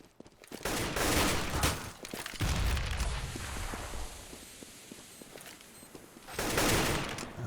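AK-47 rifles fire during a Counter-Strike match in rapid, sharp bursts of shots, with a denser volley early on, a quieter stretch of scattered cracks and footsteps, then another loud burst near the end.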